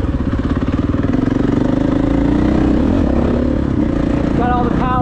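A 2012 KTM 500 EXC dirt bike idles close by with a loud, steady, throbbing thump, then rises slightly near the end, with talk over it.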